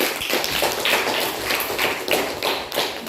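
Schoolchildren in a classroom clap together, a busy run of overlapping claps and taps at close range, fairly loud and uneven in rhythm, with no talking over it.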